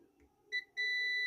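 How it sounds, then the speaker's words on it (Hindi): A digital multimeter in continuity mode, testing a 12 volt battery charger circuit, gives a short beep, then a sustained steady high-pitched tone when the probes connect, loud and close. "एक बार बीप देता है फिर छोड़ देता है"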